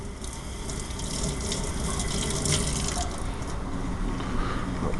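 Kitchen tap water runs steadily into a sink while vegetables are washed for a sauce, a continuous close splashing gush with no talking.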